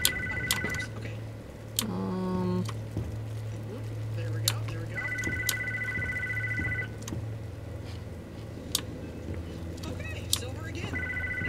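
A telephone rings repeatedly in the Bendy and the Ink Machine game, with short bursts of ringing tone recurring over a low ambient hum and scattered clicks, while a person talks over it.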